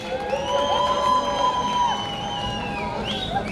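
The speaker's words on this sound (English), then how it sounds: "Let's give you a round of applause as she comes to the stage" A crowd at a craft festival public speaking segment cheers, whoops and shouts as a woman comes to the stage, with high excited voices carrying over a steady roar and little distinct clapping.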